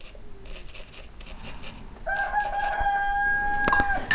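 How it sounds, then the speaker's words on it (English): A young rooster crows nearby, one strained, wavering call that rises partway through and ends with a sharp burst, following a stretch of quiet room noise. "there goes my young rooster"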